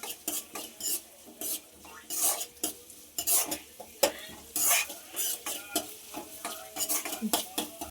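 Oil sizzles in a pan as cashews fry while a utensil stirs and scrapes, giving irregular clinks and bursts of crackling, fairly quiet and without speech.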